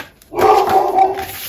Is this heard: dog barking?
yes